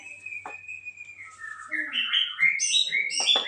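A young white-rumped shama calls: bright, rising whistles and chirps in quick succession, close and fairly loud, climbing in pitch toward the end.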